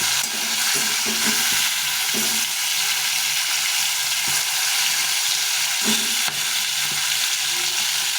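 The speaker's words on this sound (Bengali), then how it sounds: "মাছটা ভেজে নিলাম মাছগুলো ভাজা হয়ে গেছে" Magur fish fry in hot oil with a loud, dense, continuous sizzle, broken by occasional stirring scrapes and spatters, close up and with no talk.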